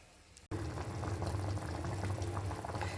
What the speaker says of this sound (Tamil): இப்போ நம்மளோட வத்தக்குழம்பு வந்து நல்லா கொதிச்சாச்சு